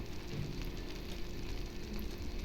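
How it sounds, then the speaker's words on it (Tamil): Onion paste sautéing in oil in a nonstick or iron kadai while making onion thokku, giving a steady close crackling sizzle that runs evenly throughout with no talk. "இப்போ நம்ம வெங்காயத்தை போட்டு வதக்கிட்டு இருக்கும்போது எண்ணெய் எல்லாம் வந்து பிரிஞ்சு வரணும்"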